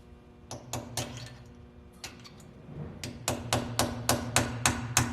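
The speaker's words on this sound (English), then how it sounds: "you can actually hit them with a hammer and a punch, one way or the other, to rotate them" A hammer strikes a punch to turn the differential bearing adjuster locks on a RAM 1500 9.25 ZF limited-slip install, sharp metallic taps in irregular clusters that settle into a steady run of evenly spaced blows.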